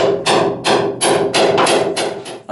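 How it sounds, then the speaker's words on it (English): Socket tapped with a hammer to seat an oil seal during a boat prop shaft and rudder post installation: a series of about six firm, close metallic knocks in an uneven rhythm, heard alone. "And then I'm just gonna use this socket to tap it in."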